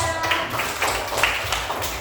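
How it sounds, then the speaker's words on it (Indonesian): A small group in a classroom claps for a correct quiz answer, with several quick bursts of hand claps close by and some light tapping. "Beri tepuk tangan buat nomor 2"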